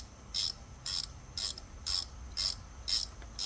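A ratcheting gear wrench loosens a bolt holding a car's power steering pump, giving six short, evenly spaced bursts of clicking about half a second apart, close and clear with no voices.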